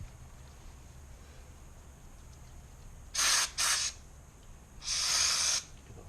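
Parts cleaner sprayed from an aerosol can onto a greasy trailer hub: two short close hissing bursts, then a longer steady spray, with a quiet background between them.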